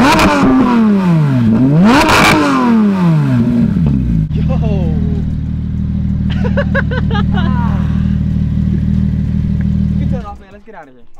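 A Porsche GT RS sports car engine revs hard, its pitch rising and falling in sharp sweeps before settling into a loud, rumbling idle with quick throttle blips, close by; a person speaks briefly over it at the start.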